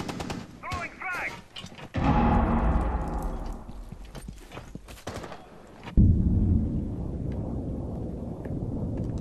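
Frag grenade blast in the Rainbow Six Siege shooter game, a heavy boom at about two seconds and another burst near six, amid rapid in-game gunfire and sharp clicks, with a brief voice early on.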